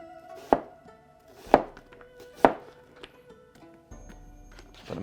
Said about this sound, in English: It's just these little wedges for the onions.